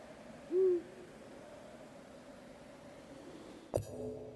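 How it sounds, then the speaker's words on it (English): A single soft hoot from a large white owl in the video game Katie Bat sounds once over a quiet hiss, followed later by a brief sharp click. "Can I grab the owl instead? Pure, white, beautiful, large owl."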